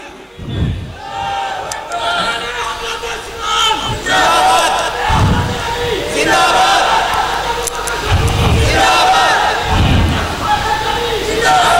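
A large crowd at a religious conference in Faisalabad chants a slogan in loud, rhythmic bursts, with repeated surging shouts over a sustained hubbub.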